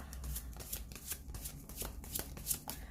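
Tarot cards are shuffled close up in a rapid series of crisp riffling and flapping bursts, several per second, with no voice over them.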